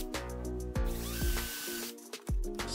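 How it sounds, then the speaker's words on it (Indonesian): A power drill boring 4 mm holes in a wooden board, with short whirring bursts that start and stop several times, close and fairly quiet. "Kita bor dengan diameter 4 mm sejajar ya, seperti ini biar nanti posisinya bisa sama."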